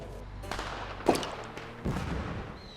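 Several muffled booms and cracks of firework rockets go off at a distance on bonfire night, one sharper pop standing out, with faint murmuring underneath.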